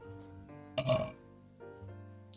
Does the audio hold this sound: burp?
yes